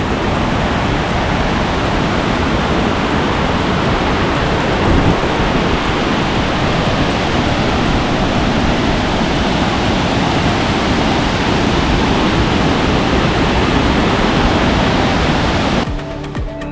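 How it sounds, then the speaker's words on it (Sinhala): Bomburu Ella waterfall in Sri Lanka roars in a loud, unbroken wash of rushing water, heard close and constant until it cuts off at the very end. "බෝබුරැල්ලෙන් යටන වතුර මෙහෙම ඇවිල්ලා මෙතන තව චූටි දියල්ල"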